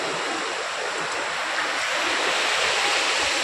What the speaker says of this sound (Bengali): ঢেউটা আসছে দেখুন